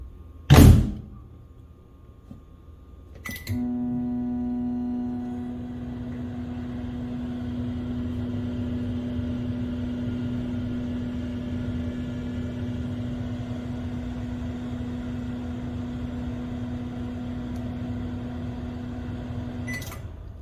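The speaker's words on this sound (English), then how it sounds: "Let's try the microwave." A microwave oven powered by a Jackery HomePower 3600 Plus: its door thuds shut, a beep sounds, then a steady electric hum runs for about sixteen seconds before ending with a click.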